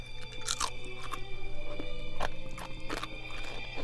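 Crispy fried bacon is bitten and chewed, giving several sharp, close crunches spread across the clip over a faint steady background hum.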